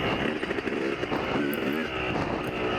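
A motorcycle engine in a video game revs hard under throttle, a loud, continuous buzzing drone with the pitch sweeping up and down over a few seconds.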